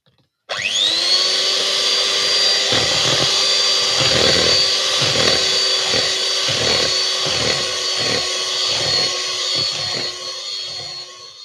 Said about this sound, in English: So you whisk this until the sugar and a pale and thick mixture.